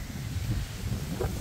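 Strong wind buffets the microphone outdoors in a backyard vegetable garden, a steady low roar for a brief moment with no talk.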